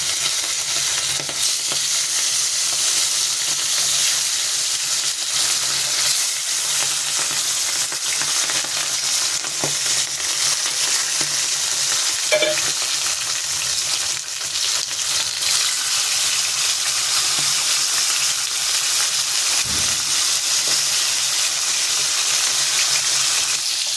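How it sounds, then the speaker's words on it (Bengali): Salted fish frying in hot oil in a wok over a lowered gas flame, giving a steady, dense, close sizzle and crackle that runs without pause and with no talking. "তেলটা গরম হচ্ছে, তেল গরম হয়ে গেছে, মাছটা ছাড়বো।"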